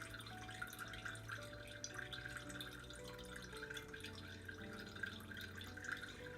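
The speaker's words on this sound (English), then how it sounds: "now I am just draining the last few little drops of the milk off of the butter" Faint drips and trickles of milk draining off freshly made homemade sweet cream butter, soft irregular patters sounding alongside a quiet background hum.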